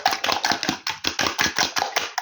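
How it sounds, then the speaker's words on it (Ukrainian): A fork whisks eggs in a bowl: a quick, steady run of scraping clicks, around a dozen strokes, close by. "І отак вилочкою гарненько зіб'ю, щоб гарненько розійшовся"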